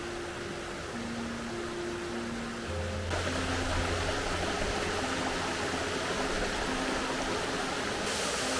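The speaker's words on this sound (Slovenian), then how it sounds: "Evo ga, pa sem sem prišel do slapov." Waterfalls roar steadily in the Korošak gorge, a loud, continuous rushing wash of falling water heard up close with no break, and a faint low tone running beneath it.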